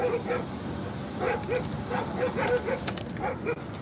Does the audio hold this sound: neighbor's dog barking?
yes